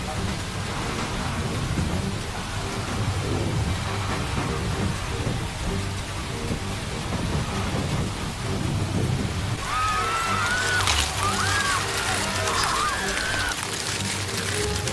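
Heavy typhoon rain pours steadily during Super Typhoon Yagi in northern Vietnam, with rumbling thunder underneath and louder, crackling downpour and wind toward the end.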